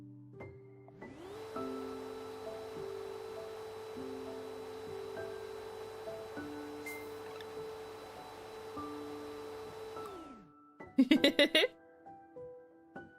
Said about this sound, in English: Let's use a vacuum to clean it.